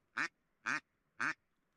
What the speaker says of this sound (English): Mallard ducks actually have a language of sorts.